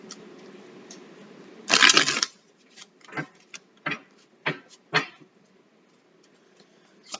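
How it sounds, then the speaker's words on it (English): Tarot cards being shuffled: a loud riffle burst followed by several shorter, crisp card snaps spaced apart, close and otherwise quiet. "let me give you a good old shuffle."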